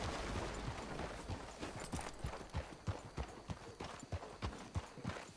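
Horse hooves galloping in the Red Dead Redemption 2 video game, a steady rapid clip-clop rhythm of repeated hoof strikes, moderately close and clear, with no talk over it.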